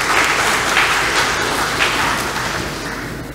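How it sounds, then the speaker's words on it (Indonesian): A crowd applauds UNG students at a formal gathering in Gorontalo, steady dense clapping that fills the room without a break and fades slightly toward the end, with no voices over it. "tepuk tangan lagi untuk mahasiswa UNG"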